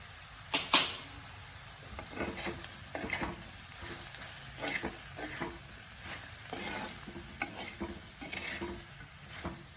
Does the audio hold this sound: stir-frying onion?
yes